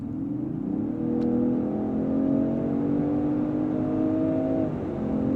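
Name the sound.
2024 Range Rover Sport P400 accelerating through mid-range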